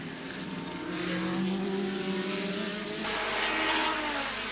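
Formula 3000 single-seaters from 1985 racing, high-pitched engines screaming past at steady full throttle, one car's tone climbing then fading as another approaches, continuous and moderately loud with no talk.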